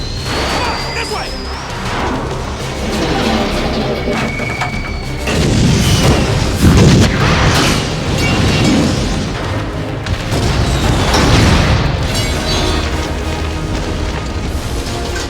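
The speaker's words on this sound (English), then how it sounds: "When you see all of the explosions, there are full-on, really obvious fireworks." Deep booms and crackling bursts of explosions and fireworks at a chemical plant in the film Backdraft roll through a loud, busy soundtrack, with voices and music mixed in underneath.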